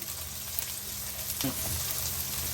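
Turnip and carrot pieces fry in a pan with a steady, fairly loud sizzle and crackle that carries evenly throughout, with a slight stirring bump midway.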